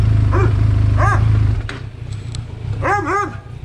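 A dog barks several times near a group of motorcyclists, the short sharp barks standing out over a low engine rumble that fades partway through.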